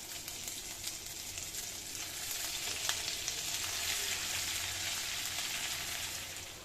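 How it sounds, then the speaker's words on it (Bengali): Chopped ginger frying in hot oil with panch phoron five-spice for a vegetarian Bengali labra gives a steady, soft, continuous sizzle throughout, with no voices. "এখন আমি আদা কুচি দিয়ে দিচ্ছি।"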